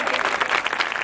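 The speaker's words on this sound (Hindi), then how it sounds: "उसकी मौजूदगी के लिए खुदावन का शुक्र अदा करते हुए जोरदार ताली" A congregation at an evangelistic Bible preaching service breaks into loud applause, a dense burst of many hands clapping vigorously, close and energetic.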